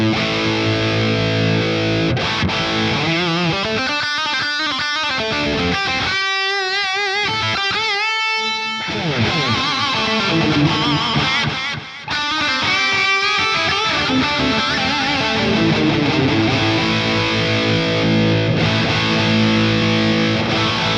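Distorted electric guitar played through a BOSS Katana amp with a parametric EQ mid-range boost around 1k, a loud sustained lead riff with chords and bends running continuously.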